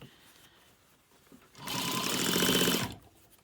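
A sewing machine runs steadily for just over a second while top stitching fabric, its rapid mechanical whir loud and close before stopping, with quiet room tone on either side.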